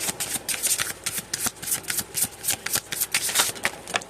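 A deck of cards being shuffled repeatedly, crisp riffling bursts in a quick steady rhythm, close and clear with no talking.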